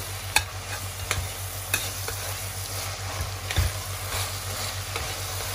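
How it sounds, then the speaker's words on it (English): Savoury rice with vegetables is stirred after salt goes in, a spoon scraping and knocking the pot in a slow, irregular rhythm over a continuous close sizzle and low hum; nobody speaks. "I'm going to stir it in"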